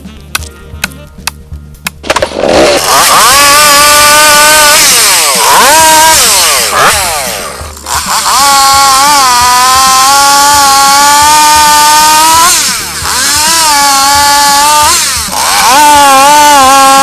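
A Stihl 660 chainsaw cuts into a big oak, a loud close two-stroke engine snarl that starts after a few sharp clicks and rattles, then revs and bogs repeatedly as the chain bites into the wood.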